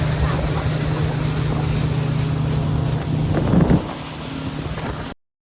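A motorboat runs on green backwater in Munnar, Kerala, with a steady engine drone mixed with wind buffeting the microphone. The drone eases toward the end, and a faint voice comes through.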